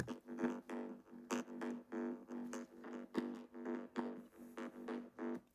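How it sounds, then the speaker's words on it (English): A thin, filtered EDM bass loop pulses in a steady rhythmic pattern, low end stripped away, fairly quiet and alone. "It's a raw bass loop, but I removed all the lower frequencies"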